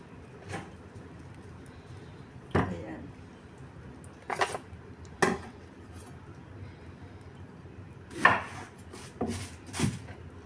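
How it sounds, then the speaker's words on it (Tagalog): A knife slices ginger for steamed fish on a wooden board in a home kitchen, making about seven sharp, separate chops at irregular intervals. The chops are close and moderately loud against a quiet background, with a voice speaking at times. "una natin gagawin is maghihiwa tayo ng luya para dito sa ating steam na isda"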